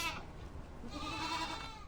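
A goat bleats on a small farm in the Island Paradise video game, a short, fairly faint wavering cry heard alone, with no talk over it.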